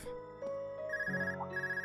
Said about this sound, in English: We get a phone call